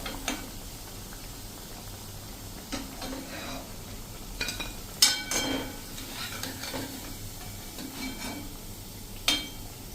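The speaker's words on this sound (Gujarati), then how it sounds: "આ રીતે ફૂલ ફ્લેમ ઉપર આપણે બીજી વાર ફ્રાય કરી અને ક્રિસ્પી એવી કરી લેવાની છે" Dhebri, a crispy Gujarati street snack, being re-fried on full flame, a quiet steady sizzle of oil with occasional sharp clinks and scrapes of a utensil in the pan.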